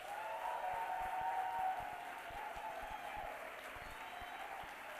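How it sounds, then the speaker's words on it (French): Audience applauding a choir at a Christmas red-carpet celebration, a fairly distant, soft, continuous clapping with a faint crowd murmur underneath, lasting the whole clip. "demande d'applaudir"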